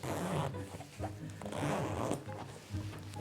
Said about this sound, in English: under the awning, a zipper